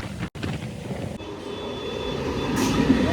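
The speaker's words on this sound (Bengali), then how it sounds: "তো এখানে ট্রেন চলে এসছে।" A suburban train rolls into Madhyamgram station, a steady broad rumble that builds slightly toward the end, with wind buffeting the microphone early on.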